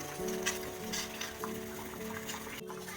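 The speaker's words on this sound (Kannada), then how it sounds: "ಇವಾಗ ನೋಡಿ ಇದು ಚೆನ್ನಾಗಿ ಕುದೀತಾ ಇದೆ" Baby corn bubbles in a pot of boiling water, a faint, continuous crackling simmer with a soft steady hum and occasional light clinks.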